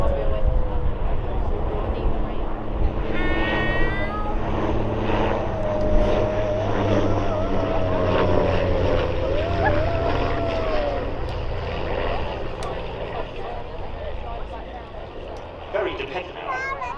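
A de Havilland Dragon Rapide vintage biplane flies at an outdoor air display, its propeller engine droning steadily and fairly loud throughout, with someone talking over it.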